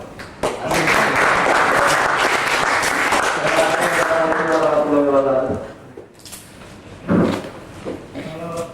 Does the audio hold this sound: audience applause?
yes